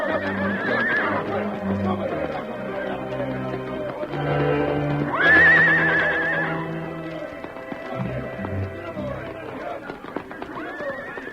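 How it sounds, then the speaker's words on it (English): Several horses neigh loudly in an old-time Western radio drama, with high whinnies rising over a continuous bed of galloping clip-clop hooves, dramatic music and shouting voices. "Hey, another horse!"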